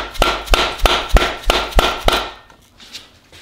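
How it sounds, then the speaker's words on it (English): A Harbor Freight rubber hammer taps a VR6 intermediate shaft bearing onto its center cap. Seven sharp, evenly spaced blows land in quick succession, loud and close, followed by a quieter stretch with no talking. "my Harbor Freight rubber hammer ain't going to do it"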